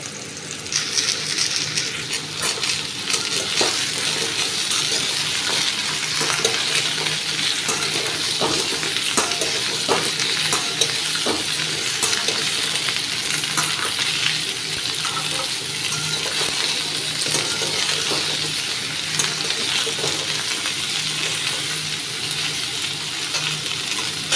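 Potato and pumpkin pieces fry in oil for a curry, giving a continuous loud sizzle broken by repeated scraping stirs and light utensil clinks.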